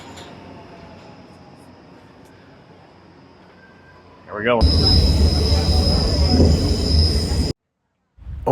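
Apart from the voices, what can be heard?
metro train arriving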